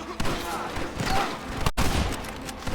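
Gunfire in the video game Red Dead Redemption, a dense, busy fusillade of shots and thuds that runs almost the whole way through, with a brief dropout near the middle and a voice faintly under the battle.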